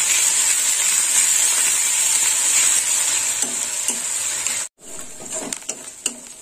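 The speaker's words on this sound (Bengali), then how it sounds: "কুচনো পেঁয়াজটা একটু লাল লাল করে ভাজা হবে।" Chopped onion and onion paste sizzle steadily in hot oil in a pan while being stirred for a soybean curry, a close, continuous frying hiss with soft scraping strokes and a brief break near the end.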